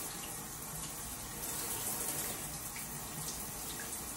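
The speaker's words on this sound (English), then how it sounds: "I'm gonna turn this water off" A tap runs steadily into a sink in a bathroom during hair washing, giving a constant, close hiss of flowing water with no voices.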